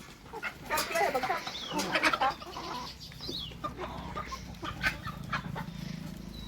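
Chickens on a goat farm cluck and squawk up close while being fed maize in the evening, a busy flurry of overlapping calls that thins into scattered clucks.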